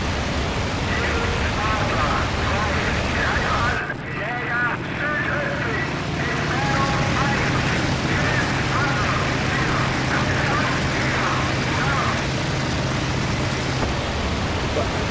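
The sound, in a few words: FW-190 aircraft engine in flight, IL-2 Battle of Kuban video game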